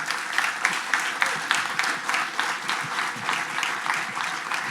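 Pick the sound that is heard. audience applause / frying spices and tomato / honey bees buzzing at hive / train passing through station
audience applause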